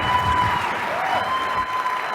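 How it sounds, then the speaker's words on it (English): Steady applause from a keynote conference audience, a dense patter of clapping at moderate volume that continues throughout without letting up. "Round of applause for Greg Lally."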